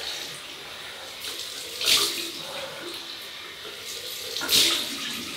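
Cool tap water running into a basin for rinsing during a wet shave, a steady close hiss of flowing water with two brief louder splashes as the stream is disturbed, no talk.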